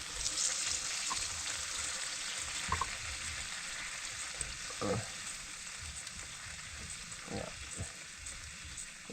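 Winter melon (kundol) sautéing in a pan, a steady soft sizzle with occasional stirring scrapes and clinks, fairly quiet with no talking.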